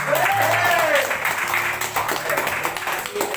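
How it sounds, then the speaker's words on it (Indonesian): Steady applause from a crowd fills the background while voices talk over it. "Banyak tepuk tangannya episode ini"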